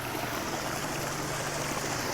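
Water runs down the rocks of a built backyard waterfall with a steady, soft rushing and trickling, heard alone at low volume.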